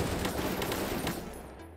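Rapid bursts of gunfire in the Krunker.io shooter game, a dense fusillade of loud close shots crackling for most of the moment before tapering off.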